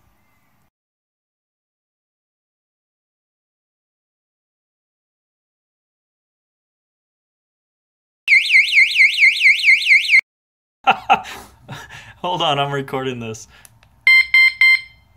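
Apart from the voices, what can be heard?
Antusi Cicada A6 bike alarm sounding when locked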